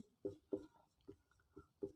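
Pen writing on paper, five or six short separate scratchy strokes spaced evenly, close and quiet, with no talking.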